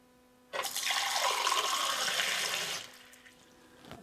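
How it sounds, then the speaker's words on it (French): A shower in an earthship home running on collected rainwater bursts on abruptly and gushes loudly for about two seconds, then cuts off, leaving a quiet hum. "On prend la douche en même temps là."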